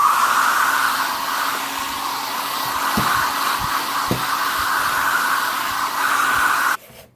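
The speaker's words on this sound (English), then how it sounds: "I'm done with the hairdryer" A hair dryer blows steadily and loudly on a sheet of watercolor paper for nearly seven seconds, with a few soft knocks underneath, then cuts off abruptly near the end.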